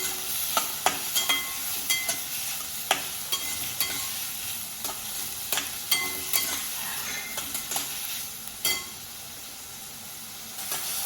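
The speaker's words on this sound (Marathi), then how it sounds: "हा कांदा मस्त लाल होईपर्यंत आपण परतून घ्यायचा आहे" Chopped onion and green chillies sautéing in a pan, a low continuous sizzle broken by sharp spoon scrapes and clacks at an uneven pace, close up with no voices.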